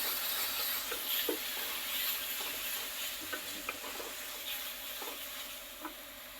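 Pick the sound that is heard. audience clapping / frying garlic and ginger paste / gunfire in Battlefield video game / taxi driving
frying garlic and ginger paste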